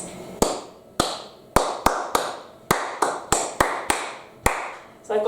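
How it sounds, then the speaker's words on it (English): A single person's hands clap out a musical rhythm, about a dozen crisp, close claps in an uneven pattern of short and longer gaps, heard alone in a quiet room. "you might have to clap the rhythm to them, for example. So my rhythm goes like this."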